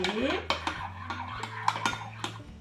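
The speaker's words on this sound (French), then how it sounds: "on va venir mettre 2 petites cuillères de farine. Alors, et on va mélanger" A spoon stirring two small spoonfuls of flour into a warm mixture in a bowl, with several distinct clinks and scrapes against the container at an irregular pace, close and fairly quiet.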